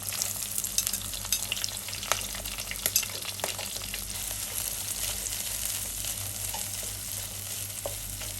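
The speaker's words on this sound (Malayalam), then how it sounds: "നമുക്ക് ഇതിലേക്ക് കുറച്ച് ചെറിയ ഉള്ളിയും പച്ചമുളകും കൂടെ ചെറുതായിട്ട് അരിഞ്ഞൊന്ന് ചേർത്ത് കൊടുക്കാം." Chopped shallots and green chilies frying in hot oil for a ginger curry, a continuous close sizzle with occasional light stirring clicks, no voices.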